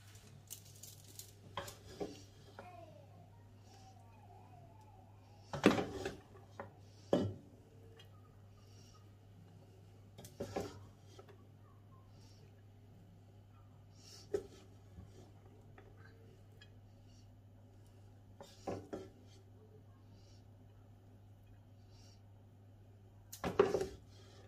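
Vegetable fried rice being dished out of a pan onto a plate: a few sparse metallic scrapes and clinks of a spoon against the pan, spread out over a low steady hum, fairly quiet and close.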